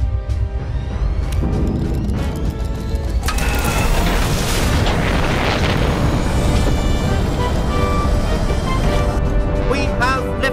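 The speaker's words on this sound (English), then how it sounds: "We have liftoff." A rocket ignites and lifts off in a game, a loud rumbling roar that builds and holds as a continuous booming wash, with a voice speaking over the start.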